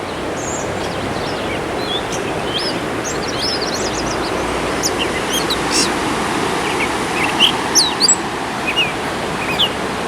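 A songbird sings repeatedly beside a riverwalk trail, its bright chirps standing out over a steady wash of water or wind noise, with a few louder calls near the end.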